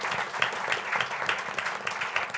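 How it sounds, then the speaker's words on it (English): An audience at a health expert panel event gives a steady round of applause, dense and fairly close, with no talk over it. "If you give yourself a round of applause"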